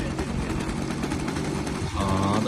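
OS65 methanol-fueled model airplane engine on a balsa-wood fixed-wing plane buzzing in a steady, rapid drone, rising to a louder, fuller note near the end as it catches and runs; faint talk mixes in.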